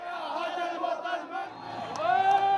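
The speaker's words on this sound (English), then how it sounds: "An officer tried to address the crowd, but he was drowned out by the chanting." A large crowd of protesters chants loudly at a riot police line during a 2002 Middle East protest. Many voices merge into a sustained, rising chant that fills the whole moment.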